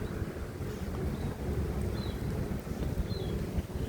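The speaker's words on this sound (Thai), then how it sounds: "ลมฝนมา รอบทิศเลยค่ะเพื่อนๆ ค่ะ" Wind gusts and rain blow outdoors as a steady, low, rumbling rush with buffeting against the microphone, fairly quiet and continuous, with no voices.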